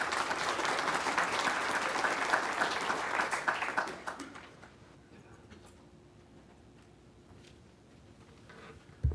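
Audience applause at a community bank event greets a keynote speaker: dense, loud clapping for about four seconds, then tapering into scattered claps and quiet room noise.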